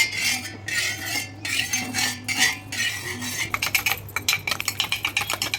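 Oil spread across a hot pan before an omelette goes in: bursts of scraping utensil strokes against the metal, then a fast run of light rhythmic tapping, all close and without speech.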